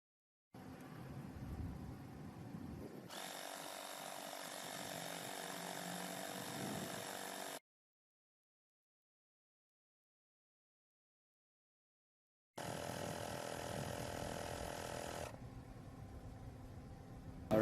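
A Tower top TF1502 portable compressor inflating a Tesla tyre runs with a steady, loud buzzing drone, close by. It cuts out for several seconds of silence, then comes back just as steady.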